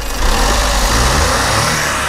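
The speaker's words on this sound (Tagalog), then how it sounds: "So yan po yung andar ng makina natin." A 63-horsepower offroad sporty vehicle with a 4-speed automatic transmission runs its engine close by, a steady loud rumble with a slight rising rev and no talking over it.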